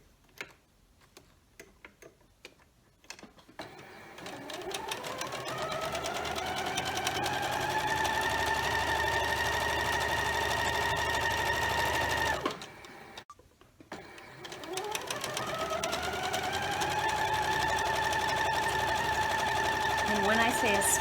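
A sewing machine stitches pieced quilt fabric along a diagonal line: a steady, rapid mechanical whir that runs for several seconds, breaks off briefly, then starts up again, close and fairly loud, with no talking over it.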